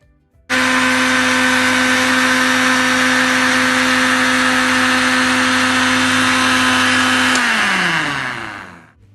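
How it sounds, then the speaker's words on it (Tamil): A mixer grinder blends milk for rose milk, a loud steady electric whine and whirr that starts abruptly, holds evenly for about seven seconds, then winds down in pitch as the motor slows, with no talk. "இப்போ நம்ம இதை பிளெண்ட் பண்ணிட்டு வந்துடலாம் மிக்சரில்."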